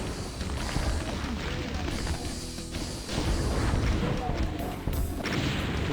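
Rocket launcher blasts and explosions in a Doom mod, loud dense bursts of booms and crashes piling up throughout, with a voice speaking briefly among the chaos.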